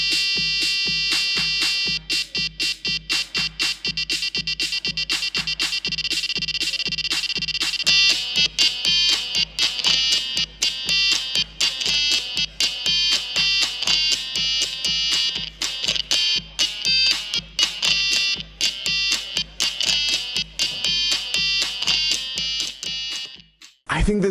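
A homemade DIY synthesizer played with a stylus gives bright, buzzy electronic tones in rapid, steady stepping notes, loud and continuous for over twenty seconds before cutting off.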